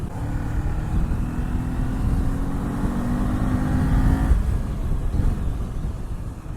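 A Kawasaki Z400 ABS motorcycle cruises in sixth gear at about 100 km/h and 6,000 rpm: steady engine drone at constant high revs with wind rush, smooth without acceleration changes; no voices.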